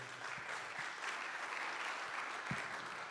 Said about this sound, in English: give him a round of applause anyways.